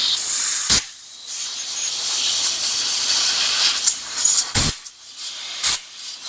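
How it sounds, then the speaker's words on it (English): Compressed air from a big compressor blasts through the passageways of a 50cc dirt bike carburetor, a loud steady hiss broken by brief gaps and several short sharp bursts near the end. "Now we're going to blast through all these passageways. If you're doing this with a big air compressor, be very careful."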